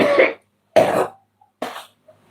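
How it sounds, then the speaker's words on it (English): A man with a cold coughs three times in quick succession, harsh, close and loud bursts separated by short silences, the last one weaker. "I've been taking cough medicine and different things, and it's making it come up even more."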